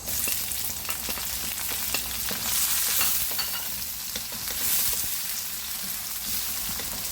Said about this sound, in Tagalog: Gigisan na natin yung luya muna konting luya.